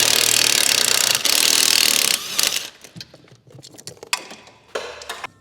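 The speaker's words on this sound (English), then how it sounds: "Managed to fit the impact there." An impact wrench hammers at downpipe bolts on an R36 engine-swapped VW Scirocco R. Two loud, close rattling bursts with a short break between them give way to quieter scattered clanks and handling noises.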